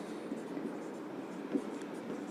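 Chalk or marker scratches softly across a classroom board as a physics teacher writes out a condition, faint and intermittent strokes over low room hiss.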